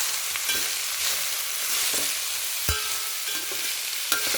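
A dish being stirred in a cooking pan, with steady broadband sizzling and a few sharp utensil scrapes and knocks against the pan, close and continuous, no voices.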